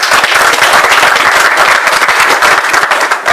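Audience applauding Viviane Azo at the JAIEI 2016 closing ceremony, loud dense clapping from a crowd of listeners, sustained evenly through the whole stretch with no voices over it.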